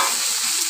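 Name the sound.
onions and tomatoes sautéing in a pan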